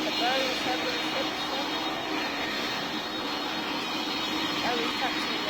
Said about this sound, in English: So we're gonna get the full blast of the Boeing 767.